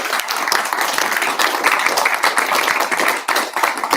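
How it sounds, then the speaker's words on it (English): Audience applause at the end of a Saturday talk on the secession of Western Australia, a dense room-wide clapping that holds steady for the whole stretch and thins slightly near the end. "Let's give him a round of applause."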